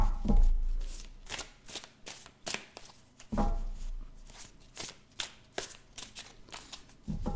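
Tarot cards being shuffled by hand, a rapid series of crisp riffling bursts and soft slaps repeating in quick rhythm, close and clear with no talking.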